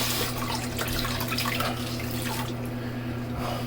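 A faucet runs steadily into a sink during a wet shave with Enders Speed Razor and Silent Night soap, a close continuous splashing with a low steady hum underneath and no talk.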